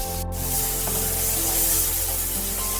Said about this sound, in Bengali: চিংড়ি মাছগুলো আমি ধুয়ে নুন হলুদ মাখিয়ে রেখে তারপর কড়াইতে দিয়ে দিলাম একটু ভাজার জন্য